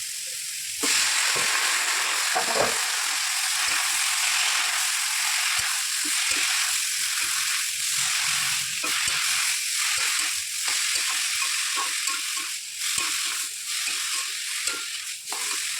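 Ash gourd sizzling and frying in a pan with salt, a steady loud hiss broken by frequent scraping stirs of the spatula, with no talking.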